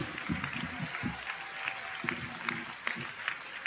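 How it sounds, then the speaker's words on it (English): Scattered applause from an audience at a Delaware State University convocation, fairly quiet and uneven with individual claps standing out, while voices murmur underneath. "give Kathleen Trigg Jones a great big round of applause."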